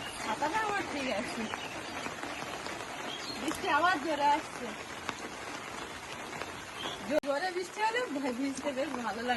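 Heavy rain patters down steadily throughout during fishing, with people talking over it at moderate volume and a brief sharp knock near the end.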